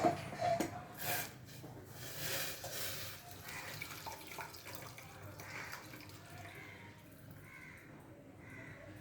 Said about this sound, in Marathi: या चाळणीमध्ये ही पानं अशी काढून घेते. म्हणजे पाणी असेल ना ते निथळून घेते.